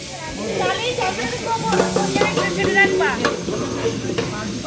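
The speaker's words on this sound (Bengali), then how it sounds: "এদিকে হচ্ছে রান্না এখন আলু ভাজা হচ্ছে" Potatoes sizzle in a hot pan for a village-style potato curry, a continuous crackling fry with stirring scrapes on top, while a person talks faintly in the background.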